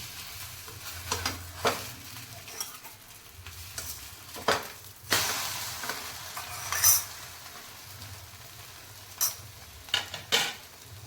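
An egg omelette fries quietly in a pan, giving a soft low sizzle broken by sharp spatula scrapes and clinks as it is stirred and turned, with no talking.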